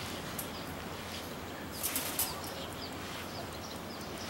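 A toucan being fed on Pangkor Island, Malaysia, gives a brief flurry of wingbeats partway through, soft and close, against a steady hiss of outdoor background noise.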